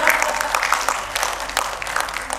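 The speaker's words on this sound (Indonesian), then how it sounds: "Baik, tepuk tangannya." An audience applauds at a business entrepreneurship talk, dense steady clapping with a few sharper claps standing out, moderately loud and close, with no voices over it.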